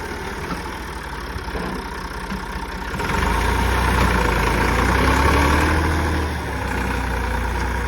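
A tractor engine rumbles steadily nearby, its low drone growing louder and rougher midway as it strains while stuck, with no voices.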